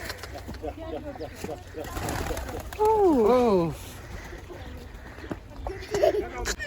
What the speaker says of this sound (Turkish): Aa, güvercinlere bak.